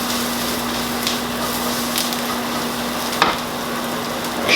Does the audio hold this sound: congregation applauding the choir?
no